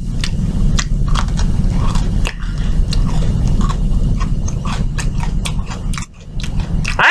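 Someone bites and chews an Oreo Mississippi mud pie cookie up close, with crisp crunching bites and steady wet chewing repeating throughout and no talking.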